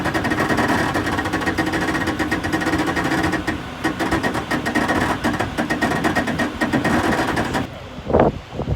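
A light duty wrecker's winch drags a 47,000-pound heavy truck with ten lines rigged to the load, giving a steady, loud mechanical whine and grinding drone throughout before it drops off near the end into a brief rumble.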